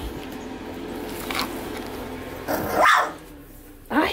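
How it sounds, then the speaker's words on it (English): A boxer dog barks up close, a few sharp, loud barks spaced a second or so apart, with low growly grumbles between them in an indoor room. "I hear you barking."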